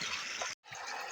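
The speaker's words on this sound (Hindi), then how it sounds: "ए वेखो पानी जिहड़ा है सड़कों के उत्तों डिगना शुरू हो गया है" Floodwater pours over a damaged road in a continuous rushing gush, briefly cut to silence partway through before the steady flow resumes, with no voices present.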